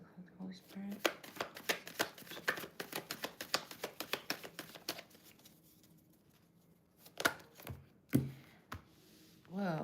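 Tarot cards riffled and shuffled by hand in a quick run of crisp flicks, then pauses with a few isolated slaps of cards being set down, faint voice between.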